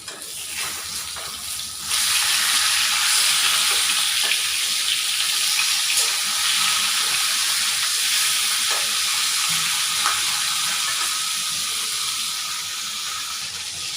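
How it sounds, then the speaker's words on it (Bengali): Fish frying in a pan until crisp makes a steady, hissing sizzle that swells after about two seconds and holds evenly, with faint pops and clinks nearby and no speech. "মাছ ভাজা হয়ে গেছে, এই দেখেন লাল করে কড়া করে ভেজেছি।"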